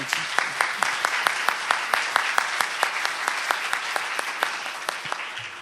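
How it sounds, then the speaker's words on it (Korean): A talk-concert audience claps in applause for a youth leader being introduced, a steady run of sharp, evenly spaced claps close by, filling the whole stretch with no speech over it. "박수 좀 쳐주세요."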